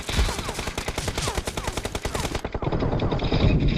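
Rapid automatic gunfire from PUBG, a battle royale shooter game, with dense bursts of shots in steady succession, loud and close, continuing into heavier sustained firing.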